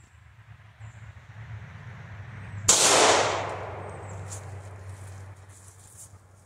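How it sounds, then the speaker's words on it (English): Single sharp 9mm gunshot into a block of ipe (Brazilian walnut) wood, a loud crack that decays into a lingering outdoor echo over a low steady background hum. "So I decided to shoot it again, and I was able to hit the center."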